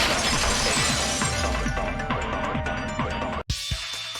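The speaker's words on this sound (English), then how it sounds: "If it wasn't the window, then what broke to make that sound? A vase." A ceramic vase shatters in the video game Danganronpa 2, a loud crash followed by a dense spray of tinkling fragments that ends abruptly in a brief silence before a few faint scattered clinks.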